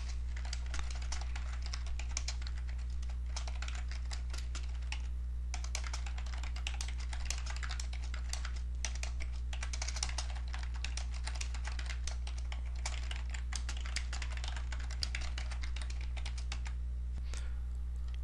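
Someone types on a computer keyboard, a continuous run of quick, close key clicks with brief pauses, over a steady low electrical hum; no one speaks.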